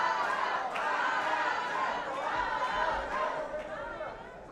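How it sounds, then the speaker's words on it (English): A boxing match crowd behind Barajas rumbles with steady chatter and rising cheers, a broad continuous roar at moderate distance with no break. "That's Barajas' crowd starting to make some noise."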